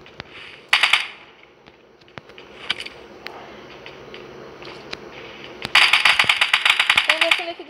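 Automatic gunfire in the PUBG Mobile battle royale game: a short burst near the start, a few scattered shots, then a sustained rapid rattling volley over the last two seconds, with faint talk underneath.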